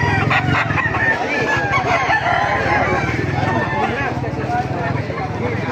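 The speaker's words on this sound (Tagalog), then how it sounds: "Maraming manok kayo dito sa Baliwag yan." Many chickens at a market in Baliuag cluck and crow together in a busy, noisy chorus, with someone talking over them throughout.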